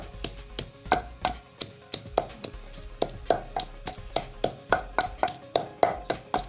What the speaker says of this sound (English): So I'm done pounding my pepper.